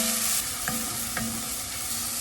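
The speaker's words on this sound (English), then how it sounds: "And I have about 1 tablespoon of chopped garlic. We're going to saute this really well." Chopped garlic, about a tablespoon, sautéing for shakshuka: a brief, steady close sizzle with a couple of light stirring taps, with no one talking.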